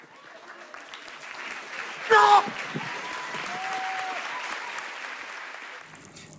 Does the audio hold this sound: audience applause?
yes